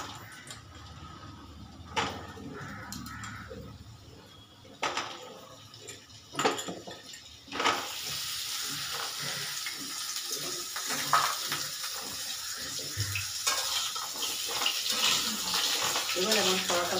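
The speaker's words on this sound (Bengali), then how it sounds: "এইভাবে এবারে জলটা ফেলে দেবো।" Water is drained from boiled cauliflower in a kitchen sink, with a few sharp clatters and knocks at first, then a sustained splashing rush of water that keeps going to the end, close by.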